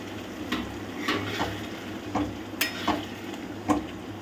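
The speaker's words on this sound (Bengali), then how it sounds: "এটার মধ্যে আমরা ভেজে রাখা ডিমগুলোকে অ্যাড করব।" Fried eggs stirred into a sizzling spicy masala in a pan, with a low sizzle under irregular scrapes and taps of a spoon against the pan, close and moderately quiet, no speech.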